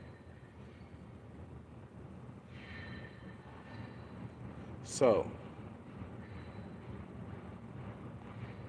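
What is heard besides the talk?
train passing by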